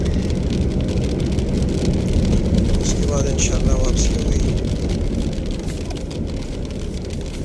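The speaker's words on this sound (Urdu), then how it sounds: "بارش ابھی تیز ہو چکی ہے۔" Heavy rain falls outdoors near Haripur, Hazara, a loud, dense, steady hiss under someone speaking Urdu, with a brief passing engine or aircraft hum midway.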